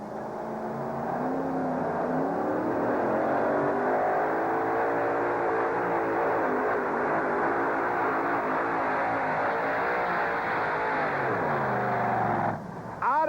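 A pulling truck's engine roars at full throttle while it drags the sled at an indoor USHRA event in Uniondale in 1991, a loud sustained rising drone with crowd noise beneath, cutting briefly near the end.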